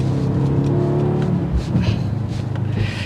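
A throaty V8 engine in a 2024 Mercedes SUV revs hard with a loud rumbling exhaust, steady and close, the pitch shifting as it accelerates.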